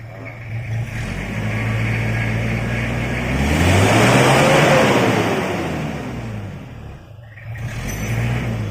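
A motorcycle engine revs up, rising to a loud peak around the middle, then drops back and picks up again, with a rough, throaty exhaust note.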